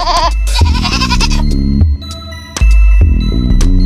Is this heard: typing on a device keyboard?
no